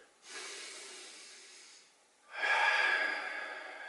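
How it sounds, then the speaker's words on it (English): A person takes a full deep breath while holding a leg stretch: a soft airy inhale followed by a louder, hissing exhale, close to the microphone and heard alone with no talking. "take one full breath here"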